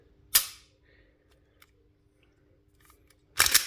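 Glock fitted with a TR 1 flat face performance trigger kit, the trigger breaking: two sharp, close clicks, one right at the start and a louder snap near the end, with near silence between.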